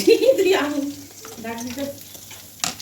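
Mutton dum biryani cooks in a pot, stirring and sizzling close by for a few seconds while a voice talks over it.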